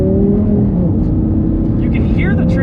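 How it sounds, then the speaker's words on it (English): A Lamborghini Gallardo Superleggera engine drones loud and close during a light pull, with a slight shift in tone as the transmission upshifts. A person talks over it. "you can hear the transmission and hear the car kind of lurch a little bit"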